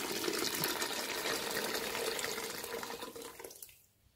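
About 1.5 litres of water pours into a cooking pot of vegetables for berkoukech, making a steady close rushing splash that fades out at the end.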